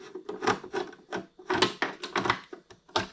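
Hard plastic and metal parts scrape and knock as the baffle shield comes off a QEP 700 XT wet tile saw, a close, quiet series of short rubbing and clicking bursts.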